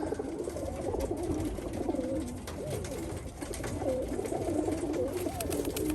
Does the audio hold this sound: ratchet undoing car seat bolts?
no